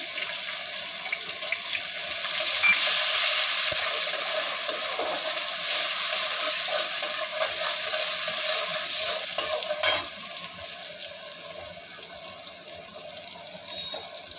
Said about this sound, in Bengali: তার মধ্যে একটু পেঁয়াজ কুচি দিলাম